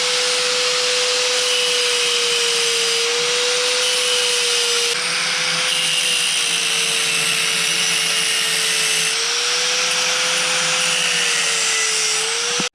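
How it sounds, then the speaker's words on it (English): An angle grinder cutting through metal during a build, a loud continuous high-pitched whine with a steady drone that holds for the whole stretch, close and alone with no talk. "All right, you get the grinder out."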